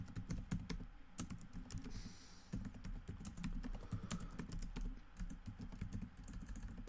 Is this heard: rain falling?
no